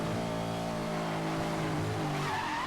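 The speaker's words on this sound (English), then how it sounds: "Oh, look at that, drifting like a boss." Engine drone with steady harmonic whine and a rising tire squeal as a car drifts through a corner in the racing game Need for Speed: Most Wanted, loud and continuous throughout.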